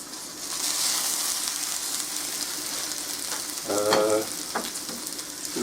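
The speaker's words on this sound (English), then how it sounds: "I've got the last of the homemade venison sausages, so that can go in there." Homemade venison sausages fry in a hot pan with a steady close sizzle, broken around the middle by a brief clatter of the pan or utensils, and no voice heard.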